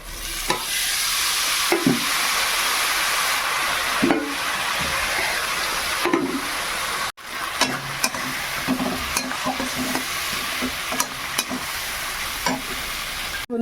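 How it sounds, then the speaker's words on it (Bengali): Water poured into a hot pan of sizzling ginger-garlic masala for chicken curry, giving a loud, steady frying hiss with stirring scrapes and a brief drop near the middle before the sizzle resumes. "এবার এর মধ্যে একটু জল দেবো।"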